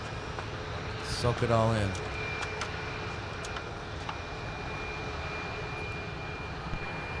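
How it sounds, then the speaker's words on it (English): An Icelandair jet taxis past at Minneapolis–Saint Paul airport, a steady moderate engine hum and whine holding throughout, while a person speaks briefly near the start. "We're going to watch Iceland Air taxi right by us."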